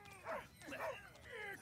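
Dog barking in an animated TV comedy episode, a few yelping barks in quick succession, fairly close, heard while people talk over it.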